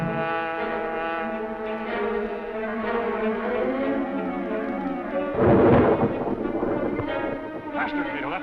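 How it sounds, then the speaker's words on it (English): An approaching storm sends a deep rumble of thunder, swelling briefly at midpoint amid wind, beneath steady music and dialogue. "storm is getting close."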